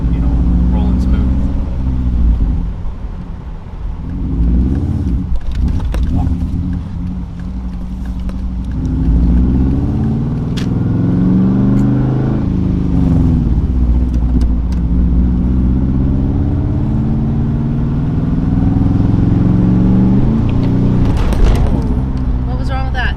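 A race car's engine revs and surges as a beginner learns to drive stick, the pitch rising and falling through clutch engagement over about twenty seconds, with people talking over it inside the cabin.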